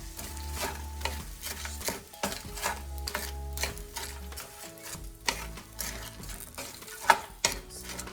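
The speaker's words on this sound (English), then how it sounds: "Let's put some pepper. Stirring that up." Steak and vegetables with pepper being stirred in a pan, giving repeated scraping strokes and clinks of a utensil over a steady sizzle, close and moderately loud, with no talking.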